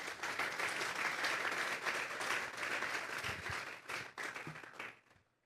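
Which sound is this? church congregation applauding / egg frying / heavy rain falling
church congregation applauding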